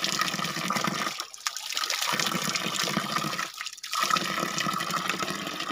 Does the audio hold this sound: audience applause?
no